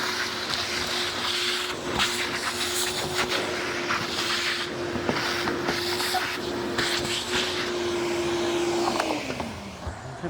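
A vacuum cleaner drones with a steady whine while cleaning a car in a garage, running continuously under bumps and knocks of handling before the motor pitch drops as it winds down near the end.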